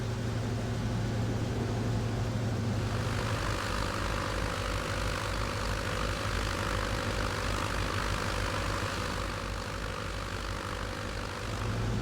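The piston engine of a Lockheed Vega 5 hums steadily in flight in Prepar3D, with a low propeller drone and broad airy noise that shifts slightly as RPM is eased back.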